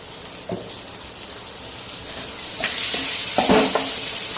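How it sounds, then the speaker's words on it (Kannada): Spices frying in a hot tempering for a homemade ivy gourd (tondekai) sukka, giving a steady sizzle that grows louder and brighter midway, with a few stirring clinks near the end and no talk. "ಅದರಲ್ಲೇ ಹುರಿಯಿರಿ, ಒಗ್ಗರಣೆಯಲ್ಲಿ ಹುರಿಬೇಕು."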